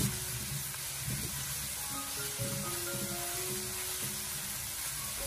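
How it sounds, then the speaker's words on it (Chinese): Minced meat stir-fries in a wok over low heat with a steady, soft sizzle and hiss that runs throughout. Faint tonal sounds sit underneath. "接着我们将剁好的肉末放进锅中， 开小火给它慢慢的翻炒一下，先把肉末炒散，炒至变色"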